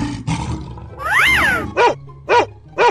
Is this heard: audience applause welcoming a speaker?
no